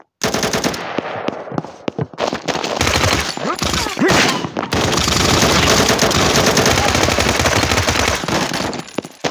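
Sustained machine gun fire in the mobile shooter Combat Master Mobile, loud and close, with a few short bursts first and then a long unbroken stream of rapid shots.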